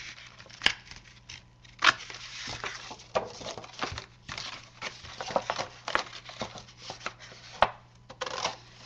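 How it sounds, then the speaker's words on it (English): Scissors cut paper for a handmade mini album, producing a series of crisp, close snips at an irregular pace with soft rustles of paper between them. "So I'm going to cut up the center on the bottom."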